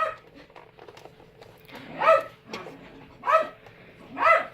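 A puppy barks and whimpers in three loud bursts, each followed by a fainter whine, over a quiet background with a child's ride-on toy Jeep nearby.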